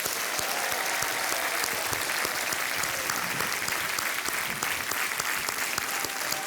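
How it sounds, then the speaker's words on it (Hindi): Steady, dense applause from a large TV game show studio audience, sustained without a break from start to finish, with no voices rising above the clapping. "तालियों के साथ उनका स्वागत किया जाए।"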